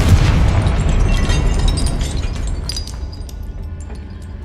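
A Confringo fire spell explodes in a Harry Potter wizarding video game: a loud, close, booming blast with crackling debris that rolls on and slowly fades, with no talk over it.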